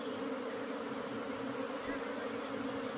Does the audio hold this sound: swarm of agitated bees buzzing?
yes